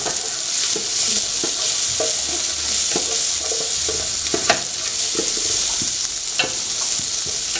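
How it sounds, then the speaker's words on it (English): Onions sizzling loudly in hot oil for pork curry, with a steady, dense frying hiss close by and occasional scraping stirs, and no talking. "Let my onion fry up."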